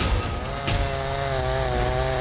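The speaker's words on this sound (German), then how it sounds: "Ich mache Kunst mit Kettensägen" A chainsaw carving wood for sculpture art runs at a steady, loud, sustained engine pitch with a brief burst partway through, with no voices.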